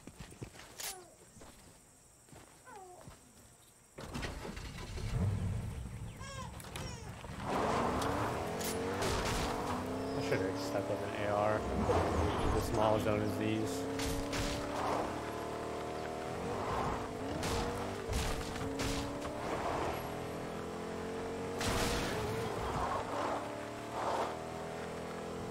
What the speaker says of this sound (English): Oh, there's a truck right up here. I think we hop in the truck.